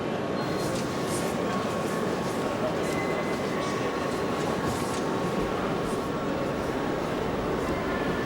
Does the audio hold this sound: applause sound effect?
no